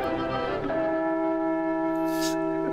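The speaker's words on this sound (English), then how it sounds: "Jack Cardiff and bells." Bells ring out in the film Pandora and the Flying Dutchman, a steady, sustained resonant toll with long humming overtones under a dense, continuous background.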